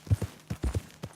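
Horse hooves clip-clop in Red Dead Redemption 2, about six or seven distinct hoofbeats in an uneven rhythm, fairly close and moderately loud, with no talk over them.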